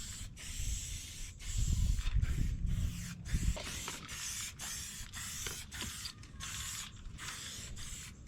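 Aerosol spray can coating plastic parts from a John Deere X304 riding mower, heard as repeated short bursts of hissing spray with brief gaps, nearby and fairly steady, alongside faint handling clatter and low rumble.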